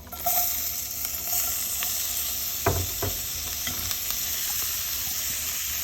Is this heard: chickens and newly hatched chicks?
no